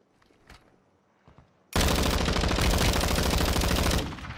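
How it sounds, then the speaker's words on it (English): Gunfire in Call of Duty: Warzone: after a near-silent stretch, a loud, sustained burst of rapid shots runs for over two seconds and then cuts off. "Shots up in the distance."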